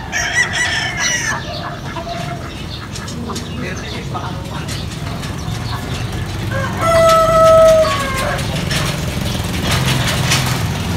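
Backyard poultry, ducks together with chickens and other fowl, clucking and calling up close, with a loud rooster crow partway through and a steady mechanical drone underneath. A person talks intermittently over the birds.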